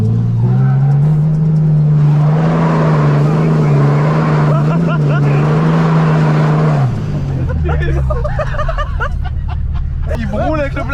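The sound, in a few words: car with flatbed engine revving as it accelerates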